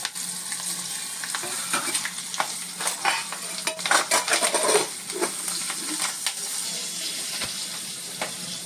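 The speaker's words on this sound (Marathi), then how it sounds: "आपण ही जी बारीक लसूण घेतली चिरून ती आधी पहिली फोडणीत घालायची. ती छान अशी लाल झाली पाहिजे खमंग" Finely chopped garlic fries in tempering oil for a fenugreek and potato dish, a close steady sizzle broken by repeated spatula scrapes and stirring clicks.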